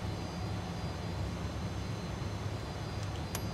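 A Fokker F28 jet taxiing toward the runway in Microsoft Flight Simulator gives a steady, moderately loud engine whine and rumble with a faint high tone, unbroken and without speech.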